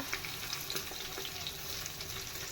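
Ginger and garlic paste sizzles in a hot pan while duck is being cooked, a soft, steady frying crackle with faint scattered pops and no talking.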